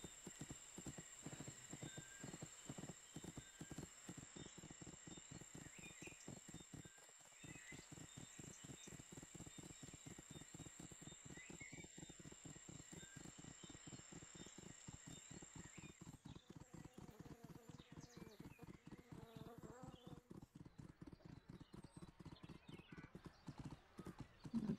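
Horse hooves clip-clop in a steady, brisk rhythm as a rider travels in the video game The Unicorn Princess, continuous and clear throughout, with faint crickets and birdsong in the background.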